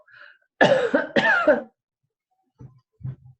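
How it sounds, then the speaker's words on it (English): Two quick, loud coughs in a row, followed by a couple of softer, low throat sounds, with no speech. "if you cough, you should cough into your elbow"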